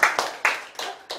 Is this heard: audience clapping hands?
yes